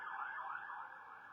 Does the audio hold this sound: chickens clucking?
no